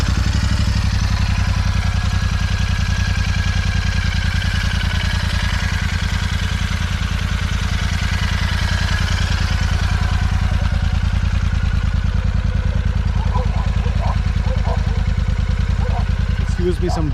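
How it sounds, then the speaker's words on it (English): A Royal Enfield Super Meteor 650 twin with an AEW aftermarket exhaust idles steadily close up, a low, even throbbing pulse that carries on throughout, with a few faint clicks near the end. "Well, let me just start the bike."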